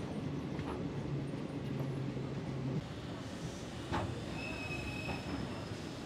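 A night train pulling into Andal Junction station, with wheels rumbling and clacking, a drawn-out squeal, then quieter rolling and brake hiss as it slows, a voice faintly present.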